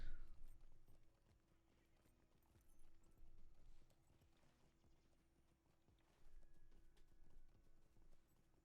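Horse hooves clip-clop in a steady rhythm during riding in the video game Lord of the Rings Online. The hoofbeats are quiet and come in a few louder surges.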